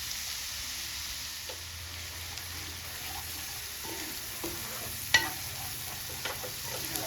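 Spices with ginger and garlic paste sautéing in a pan, a quiet low sizzle under a hum, with occasional spoon scrapes and one sharper clink near the end, no talk.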